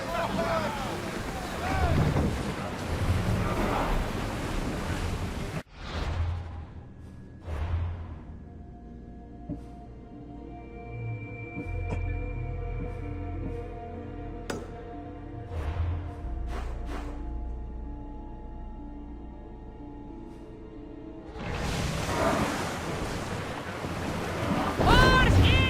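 In the Assassin's Creed Odyssey video game, a sailing ship moves across the sea with steady wind and wash of waves, plus low rumbling tones and a crew voice calling out near the start and end.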